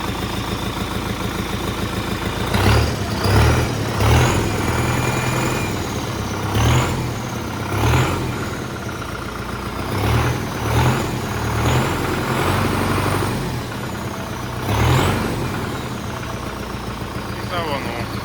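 An MTZ-82 tractor with a TKR 6 turbocharger runs close by, its diesel engine chugging with repeated revs, a turbo whistle riding above the engine, while someone talks over it.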